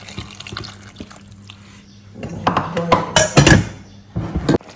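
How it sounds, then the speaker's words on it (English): Water is poured into a pot of spiced duck meat for a light soup, giving a close, splashing gush that builds and then trails off in a few bursts, with no talk. "Add water."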